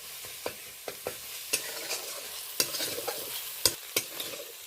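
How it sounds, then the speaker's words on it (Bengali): Onion and ginger are stirred in a pan over a low gas flame, giving a soft steady sizzle punctuated by repeated sharp spoon scrapes and clicks at an uneven rhythm. "এটাও এই পেঁয়াজের সাথে বেশ কয়েক সেকেন্ড নাড়াচাড়া করে নেব।"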